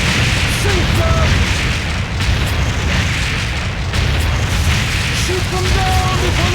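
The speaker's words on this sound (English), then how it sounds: "Get the cannons! Fire! Fire!" Ship cannons fire in the pirate arcade shooter Deadstorm Pirates, heavy booms rolling one after another within a thick, constant battle din that never lets up.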